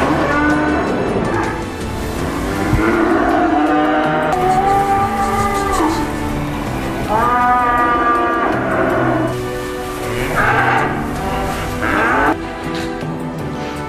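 Farm cattle bedded on bales of cereal straw moo repeatedly, several long, loud, close lowing calls overlapping throughout.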